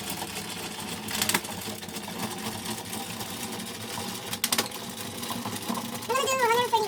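An Addi knitting machine is cranked by hand, giving off a continuous mechanical rattling clatter with a few sharper clicks and a higher squeaky whine near the end.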